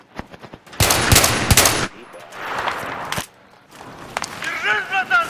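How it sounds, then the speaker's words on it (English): Video game gunfire in a multiplayer match: bursts of rapid shots, some loud and close and others more distant, with talking over the top. "I'm seeing what looks like sniper fire from the right side"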